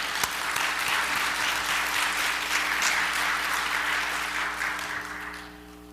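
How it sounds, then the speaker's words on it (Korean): A church congregation at an evening New Year revival service claps together in steady, dense applause that holds for several seconds and fades slightly at the end, with a low hum beneath. "영광의 박수."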